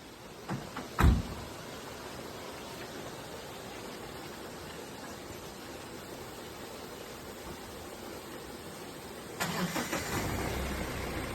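A car door thumps shut, a long quiet stretch follows, then the car's engine turns over and settles into a low, steady idle nearby.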